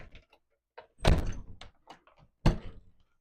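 A door thuds shut twice, each a loud, close, heavy knock with a brief rattle after it, separated by quieter shuffling and handling sounds.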